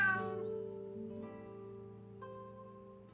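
A cat meows in the Fate/Samurai Remnant video game, a single drawn-out call rising over steady sustained background tones.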